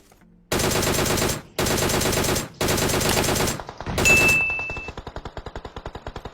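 Automatic gunfire in a battle royale shooter game, several long, loud, rapid bursts separated by brief gaps, then a fading sequence of quicker, quieter shots as the fight winds down.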